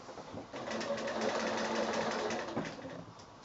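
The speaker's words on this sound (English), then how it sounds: "So I'm stitching right where the handle starts." Sewing machine stitching a small quilted fabric bag right where the handle starts, a steady mechanical whir running for a few seconds at moderate volume, with faint background sounds.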